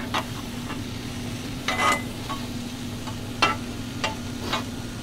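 Eggs, cheese and pico de gallo for a ropa vieja breakfast burrito cook in an oiled pan with a soft, steady sizzle, broken by a few brief scrapes of a stirring utensil, with no voices.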